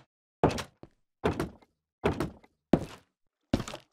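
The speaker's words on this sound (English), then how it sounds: "Opening and closing doors." Minecraft doors open and close in five hollow wooden thunks, evenly spaced and crisp against silence.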